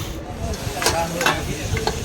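Vegetables fry in a hot pan, a continuous close sizzle and hiss with a couple of brief scraping stirs, no voices over it.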